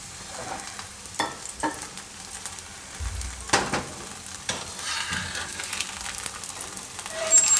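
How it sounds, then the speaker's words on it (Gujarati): Oil sizzles steadily as a matar paneer paratha fries on a pan, a low continuous crackle with a few louder clatters and scrapes from handling, close and without talk. "એક બાજુ શેકાઈ જાય પછી ફેરવી લેવું. થોડુંક તેલ આ રીતે લગાવી દઉં."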